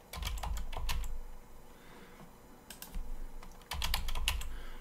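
Someone types a password on a computer keyboard, with quick bursts of close, crisp keystrokes separated by a short pause, then a second flurry of clicks.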